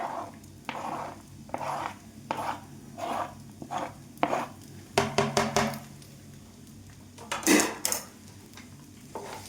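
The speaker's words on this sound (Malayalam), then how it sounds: "എല്ലാം കൂടി എല്ലാവർക്കും ആവുന്ന രീതിയിൽ ഒന്ന് മിക്സ് ചെയ്ത് കൊടുക്കാം." Chopped cashews are stirred into a mango snack mixture in a pan. A spoon scrapes the pan in a steady series of strokes over a light sizzle, followed by a few quicker clinks and a louder scrape near the end.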